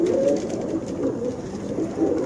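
Several flying pigeons cooing close by in a loft, a dense overlapping murmur of low throaty coos rising and falling without pause.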